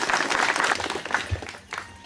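Applause from an audience at a village gathering launching Bonalu kolatam dance training in Manikyapuram, a dense wash of clapping that swells and thins over a couple of seconds, with voices mixed in.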